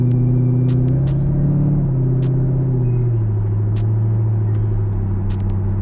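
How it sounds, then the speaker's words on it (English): Inside a moving C5 Corvette, a steady low road rumble and wind hiss fill the cabin, with a faint repeating high ticking over the drone and no talking. "Just like wind noise, that's it."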